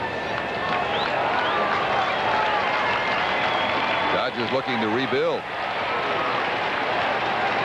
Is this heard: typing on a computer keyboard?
no